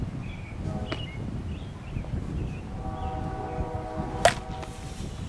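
In an outdoor softball game, a bat meets the ball for a base hit with a single sharp crack, standing out briefly above low background ambience.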